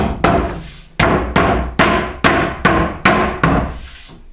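Eight sharp, evenly spaced hammer blows knocking a tight-fitting wooden shelf into place on a workbench, loud and close, each ringing briefly before the next strike.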